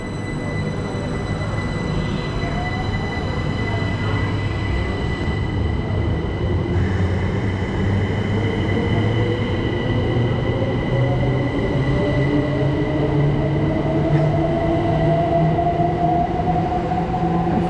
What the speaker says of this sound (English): going out now is going to be the 12:34 Southeastern service from London